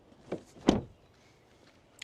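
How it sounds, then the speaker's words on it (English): Door of an Audi Q5 SUV shutting, a soft thud followed by a sharper solid slam, then a faint click; close and isolated in a quiet space. "Then the door closing sounds."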